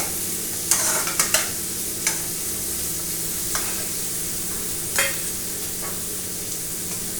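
Two medium capsicums, cut up, stir-fry in a pan with a steady sizzle, while a spatula scrapes and taps sharply every second or so against the pan.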